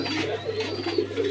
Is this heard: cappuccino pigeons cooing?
yes